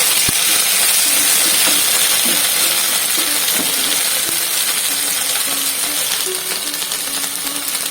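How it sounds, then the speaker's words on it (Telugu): Loud, continuous frying sizzle close up as chopped tomato goes into a pan of wilting fenugreek leaves, with a few sharp clicks and knocks of a utensil early on and no voices. "ఇప్పుడు కట్ చేసి పెట్టుకున్న టమాటా వేస్తున్నాను."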